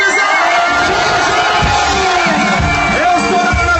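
Loud outdoor crowd cheering and shouting for an accordionist, a dense roar of voices with whoops and cries rising and falling, heavy and close throughout.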